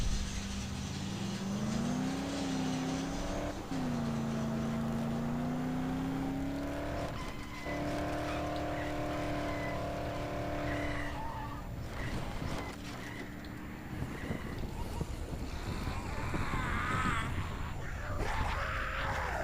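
Engine roar of a car being driven in the zombie video game Dead Island, with a rising and falling motor tone, tire screeches and skids, and impact noises toward the end, loud and continuous throughout.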